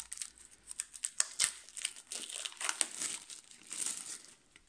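Plastic wrapping torn open from a pack of objective cards for the World at War 85 Storming the Gap board game, a close, continuous run of crinkling and crackling with sharp tearing bursts, no talking.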